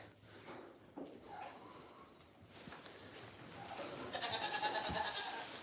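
Nigerian Dwarf goats on a small farm, one letting out a loud, wavering, drawn-out bleat near the end after a stretch of quieter rustling and shuffling movement.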